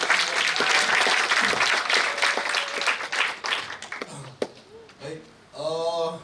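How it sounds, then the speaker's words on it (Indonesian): Audience applause at a symposium session on agrarian, environmental and ecological issues, a full sustained burst of clapping from a crowd that fades away, followed by a voice speaking. "Tepuk tangan."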